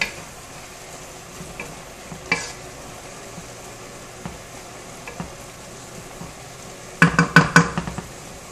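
Chicken in tomato sauce fries in a pan with a faint steady sizzle, a few isolated clinks, then a quick burst of spoon scrapes and taps against the pan near the end.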